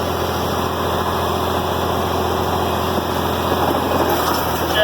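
A diesel IH 706 tractor engine runs steadily with the PTO engaged to drive a Vermeer 504C baler, a continuous loud mechanical drone with no pauses and no voices.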